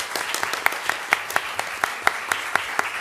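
An audience at a Spanish-language publishing event applauds the Ministry of Culture in steady, rhythmic unison clapping, roughly four sharp claps per second over a soft crowd wash.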